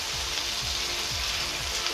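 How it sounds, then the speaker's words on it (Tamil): Pieces of chicken for restaurant-style butter chicken fry in a pan, a steady dense sizzle with a faint rhythmic low scraping of stirring, close and continuous. "நல்லா ஃப்ரை ஆனதுக்கப்புறம் தான் நம்ம இதை எடுக்கணும்"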